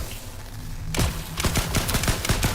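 A weapon in The Last Caretaker video game fires after a quiet moment, letting off a rapid run of sharp, loud shots that keep going to the end, with no voice over them.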